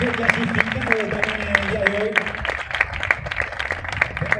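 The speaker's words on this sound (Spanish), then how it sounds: "¡Un fuerte aplauso!" A crowd at a cycling stage podium applauds, rhythmic clapping close by with voices talking over it.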